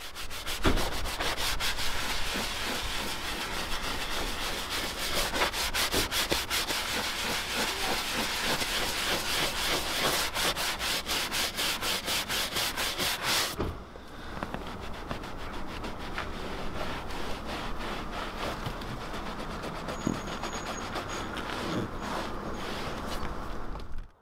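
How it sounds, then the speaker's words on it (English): An interior brush scrubs cleaner into twenty-year-old leather, a dense close rubbing with rapid back-and-forth strokes that stops suddenly partway, then gives way to softer, slower wiping. "it was thoroughly worked into the grain of the leather before its manky residue was mopped up with a microfibre towel"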